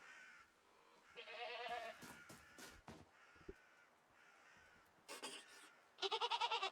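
Goats bleat in the video game REKA: several short, nasal cries come in bursts separated by quiet gaps, with a sharper, louder series of calls at the end.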